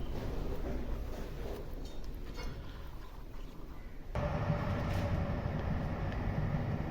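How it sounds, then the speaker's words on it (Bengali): A train passing on a railway line beside a house, heard as a steady rumbling roar that swells suddenly louder partway through and stays loud and continuous. "আমাদের বাড়ির পাশে রেল লাইন আছে, ট্রেন যেছে দেখো"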